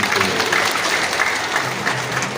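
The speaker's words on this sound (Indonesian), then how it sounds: "Tepuk tangan buat para direksi" Seated audience at an anniversary celebration and Halal bi Halal gathering clapping for company directors, a loud, close, steady burst of many hands with a faint murmur underneath.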